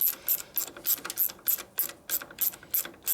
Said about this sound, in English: I just use a 1/4 drive ratchet with a 6/8 extension